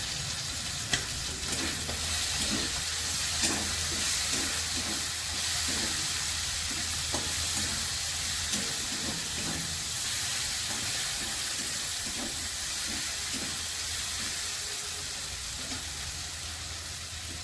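Prawns sautéing in a pan with ground cumin, coriander and chili powder for a yam and prawn curry, a steady close sizzle with repeated soft scrapes of stirring throughout, no voices.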